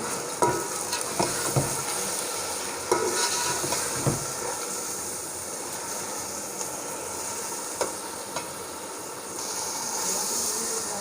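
Seven chopped tomatoes go into frying masala for Pakistani-style chicken biryani and get stirred in, producing a loud continuous sizzle with hiss and repeated scraping strokes of a spoon against the pot.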